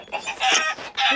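Chickens clucking inside a Minecraft zoo enclosure, a few short soft clucks in quick succession, faint and close with no other sound around them.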